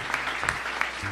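A church congregation breaks into a short burst of applause, a dense patter of many hands at moderate distance.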